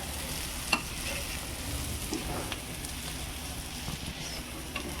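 Colocasia leaf rolls (alu vadi) fry in oil on low heat with a continuous close sizzle and scattered faint pops and taps, and no one speaks.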